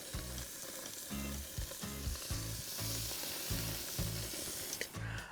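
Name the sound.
steak sizzling in hot pan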